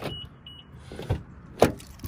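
A 2006 Toyota 4Runner limited edition unlocks by keyless entry, giving a couple of short, sharp mechanical lock clunks close by, with faint chirps early on and no talking.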